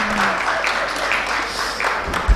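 Brief scattered clapping from a small audience in a conference hall, soft and thin, filling a short pause near the end of a session.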